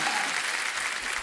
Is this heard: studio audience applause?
yes